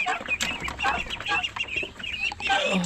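Ducks in a backyard give a busy run of near, overlapping quacks and chattering calls, loud and continuous with no pauses.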